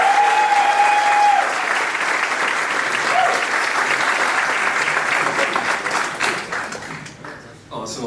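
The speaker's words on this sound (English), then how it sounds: "So give them a round of applause." Steady audience applause at a university founder event fills the room for several seconds, dense and close, then thins and fades near the end.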